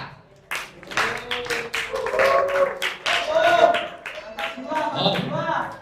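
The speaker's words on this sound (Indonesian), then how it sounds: "Tepuk tangan untuk mereka" Clapping from a group applauding student presenters at a research defense session, sharp dense hand claps mixed with overlapping voices and chatter throughout, moderately loud and close.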